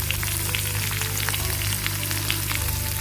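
Ginger, garlic, cumin and whole spices fry in hot oil with a steady close crackle and scattered pops, over a low constant hum.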